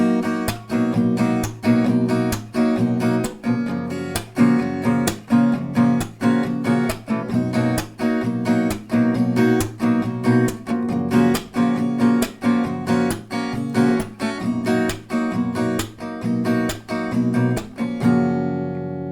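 An acoustic guitar strums chords in a steady, even rhythm, close and clear, with quick repeated down-and-up strokes, ending on a final ringing chord.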